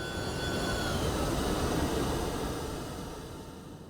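A Rotate MD-11 jet airliner passes by in a flight simulator, a broad steady roar that swells and then slowly fades as it moves away, with no talk over it.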